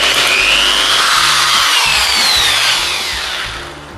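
A cheap diamond drill bit in a handheld engraver tool grinds loudly and continuously at close range, its whine shifting pitch as it bites, then tapers off near the end, with no voices.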